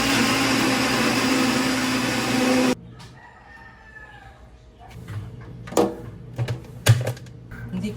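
A leaking blender blends beetroot with a loud, steady whirring roar for about three seconds, then cuts off abruptly, leaving a few quieter knocks and clatters.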